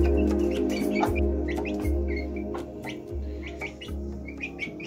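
Young Aseel chicks chirping in a steady stream of high, repeated peeps, close by, over a low humming background.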